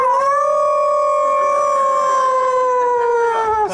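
A person imitates a wolf howl with a long, steady, tonal wail that holds for nearly four seconds, loud and close, then trails off at the end.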